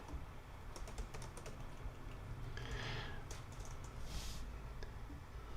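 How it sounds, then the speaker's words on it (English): Fingers tap a computer keyboard in quick irregular bursts of close, light key clicks, with brief pauses between runs and no talking. "Let me type something in here."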